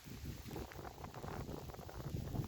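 Winter wind outdoors in Ukraine, faint gusty rumble and buffeting against the microphone with an uneven, low, fluttering texture throughout.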